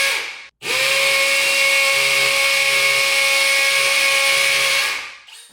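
A Milwaukee 2904 drill bores into concrete in one steady, loud run of about four seconds, with a high whine and gritty grinding throughout before it stops.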